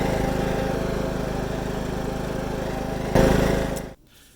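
A riding lawn tractor with a Peerless hydrostatic transmission climbs a steep hill, its engine droning steadily up close, rising briefly near the end before cutting off abruptly.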